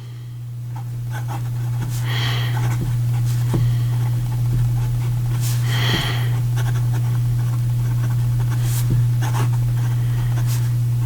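An Opus 88 Koloro fountain pen with a medium steel nib writing on paper, soft scratchy strokes and light taps in a steady rhythm, close and quiet over a constant low electrical hum.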